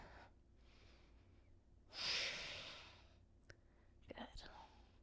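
Quiet breathing during a yoga side plank, with one long, audible exhale in the middle and a few softer breaths and faint sniffs around it.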